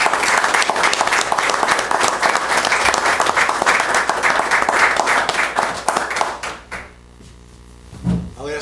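Audience applause at a town board meeting, steady and dense clapping for about six seconds before thinning out, followed by a quieter room with a brief low thump near the end.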